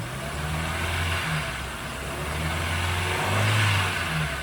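A 2009 Ford Focus 1.6 petrol engine revs up from idle in a workshop, its mid-pitched hum rising and falling in a couple of swells, close and steady with no talk.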